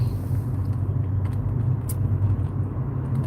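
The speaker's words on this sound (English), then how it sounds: "if you guys heard any cars or anything in the background, it's because I'm in traffic." Steady low road-traffic rumble from a car stuck in morning commute traffic, continuous and moderately loud with a faint brief hiss partway through; no one speaks.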